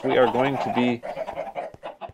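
Chickens on a Minecraft-style video game farm cluck in short, nasal bursts, two clear calls near the start followed by softer clucks, while a voice speaks over them.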